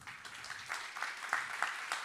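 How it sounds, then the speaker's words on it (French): An audience at a French renewable-energy conference applauds a speaker; the clapping is faint and distant, a soft continuous patter with a few sharper individual claps standing out. "Et encore sous vos applaudissements."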